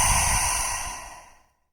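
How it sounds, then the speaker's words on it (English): A single deep yogic breath, close and breathy, fading out over about a second and a half. "Take a deep breath again."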